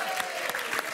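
A studio audience at a French TV dating game show applauds in a brief, dense burst of many hands clapping, loud and steady.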